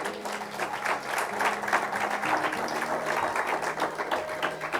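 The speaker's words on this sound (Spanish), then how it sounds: "¿Usted le quiere dar un aplauso al Señor?" A church congregation claps steadily, a dense even wash of many hands that goes on for several seconds, with a faint sustained tone underneath.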